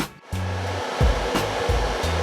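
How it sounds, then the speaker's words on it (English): Cooling fans on the power supplies of an amplifier test bench whir loudly and steadily, with low hums starting and stopping and no voices. "Alright, so we got the power supplies fans going."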